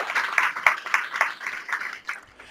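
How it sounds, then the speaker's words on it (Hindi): An audience at a church sermon claps for Jesus: a short burst of rhythmic, fairly soft clapping at a regular beat that thins out toward the end. "खुदा यीशु के लिए जोरदार तालियां."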